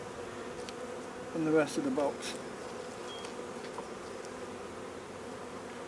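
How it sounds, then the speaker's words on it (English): Honeybees drone steadily in an open hive while a nearby voice speaks briefly in the middle, the buzzing continuing underneath and afterward. "They're not giving me too much trouble, these bees today."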